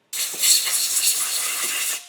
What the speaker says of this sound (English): Blow it out with some compressed air.